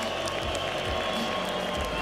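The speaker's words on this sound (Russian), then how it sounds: "Друзья, поддержите Артема Резникова аплодисментами." Crowd applause and cheering at an ACA 168 mixed martial arts event in Moscow, a steady loud roar of clapping in a large arena.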